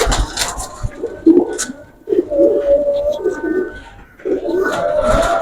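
Pigeons coo close by in repeated throaty, rolling bursts, several birds overlapping with brief pauses between phrases, in Gujranwala.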